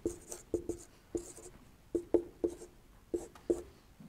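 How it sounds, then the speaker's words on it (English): Pen writing during a maths lesson, a series of faint, close taps and short scratches in irregular bursts, with no voices. "let's just write down what we've got now."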